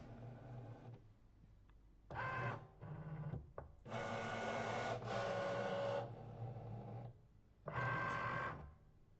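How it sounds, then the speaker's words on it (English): A Cricut cutting machine draws in its cutting mat with several short whirring motor bursts, each a second or two long and separated by quiet pauses. The sound is close but faint. "And this now goes into the machine. The light is flashing and I'm loading it."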